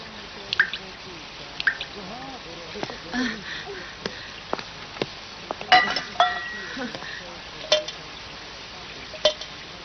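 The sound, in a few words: water dripping from a roof leak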